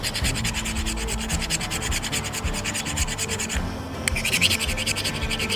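A steel scraper rasps rapidly back and forth along a ferro rod, stripping its black coating in a steady, close run of gritty scratching strokes.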